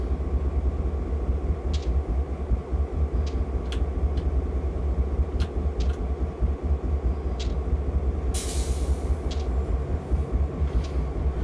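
A Union Pacific GP38 diesel locomotive in Train Simulator running steadily with a deep engine drone and rolling rail noise, punctuated by periodic clicks from wheels over rail joints and a brief hiss.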